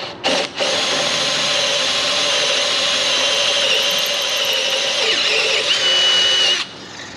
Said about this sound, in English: So what you wanna do is drill this out.